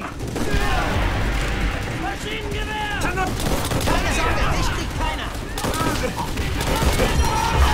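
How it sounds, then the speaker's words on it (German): Enemy machine gun fire in the Call of Duty: World at War battlefield, with dense overlapping bursts of gunfire and distant booms carrying on continuously, while excited voices shout over the combat. "Feindliches Maschinengewehr!"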